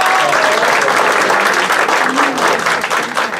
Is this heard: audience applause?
yes